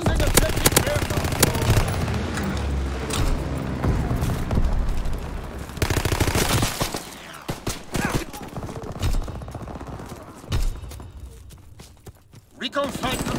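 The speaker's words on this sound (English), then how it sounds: "Pilot inbound, strafing the target." Gunfire from an aircraft strafing run in Call of Duty: WWII comes as bursts of rapid shots that fade into scattered pops and thuds. Radio voices speak over the firing.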